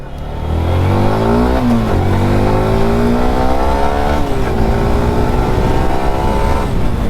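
Yamaha R15M motorcycle ridden on a road at night, its engine droning steadily and rising in pitch through gear changes, loud and close throughout with no talking.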